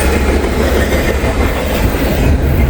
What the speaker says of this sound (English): BNSF DPU coming through.